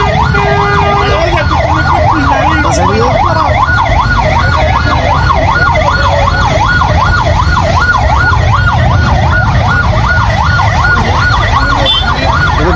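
A loud, close ambulance siren wails continuously in a rapid rising and falling pattern while the vehicle sits stuck in a heavy traffic jam at Chowdhury Hat on Oxygen Road in Chittagong, with engine rumble underneath.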